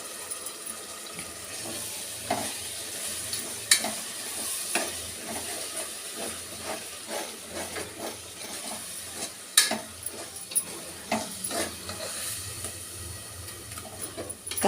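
Blended coriander, mint and tomato paste frying in a pan for chicken biryani: a steady close sizzle with scattered scraping and stirring clicks throughout, no voices.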